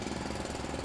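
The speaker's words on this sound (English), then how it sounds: "More worryingly, Sean has a drill." Power drill whirring continuously, a loud steady buzzing drone with a fast rattling pulse throughout.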